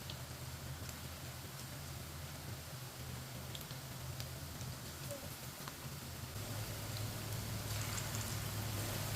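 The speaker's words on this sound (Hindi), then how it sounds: "ऑयल हमारा अच्छी तरह गर्म हो चुका है। अब एक एक कबाब डाल लेंगे।" Meat kebabs fry in hot oil over a medium flame, giving a faint, steady crackle and sizzle throughout that grows slightly fuller toward the end.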